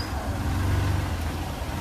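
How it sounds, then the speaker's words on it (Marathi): Heavy road traffic stuck in a jam on the route from Pune to Mahabaleshwar, heard as a steady, dense low rumble of idling car, bus and truck engines, close and continuous without voices. "हे बघा तुम्ही इथं फुल जाम ट्रॅफिक चालू आहे"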